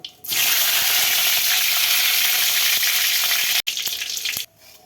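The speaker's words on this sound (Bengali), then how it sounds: "তেলটা গরম হয়ে গেছে, এখন শুকনো লঙ্কা তেজপাতা দিয়ে দেব" Dried red chillies and bay leaves hit hot oil in a kadai, a loud, dense burst of sizzling that holds steady for several seconds, breaks off briefly, then fades down.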